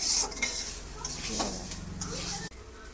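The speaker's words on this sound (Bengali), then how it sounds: "টমেটো লঙ্কা দিয়ে কষছে" Tomatoes and chili fry in a pan with turmeric and cumin, giving a steady sizzle under the scraping and clinking of a stirring utensil against the pot, with a sudden cut partway through.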